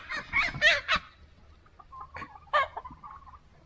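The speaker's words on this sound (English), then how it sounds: "That was a rooster going after a hen." Sharp, loud squawks from chickens as a rooster goes after a hen, a burst of rapid cries followed by a pause and then a few more agitated clucks and screeches.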